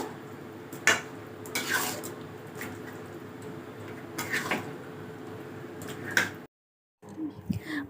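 Butter chicken being stirred and mixed in a pan, a spoon scraping and clinking against the metal in scattered strokes over a low sizzle, with a brief silent gap near the end.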